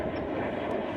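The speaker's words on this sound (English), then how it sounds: "cheers to that airplane above me" An airplane passes overhead outdoors, a steady broad engine roar, moderately distant and continuous, with no voices.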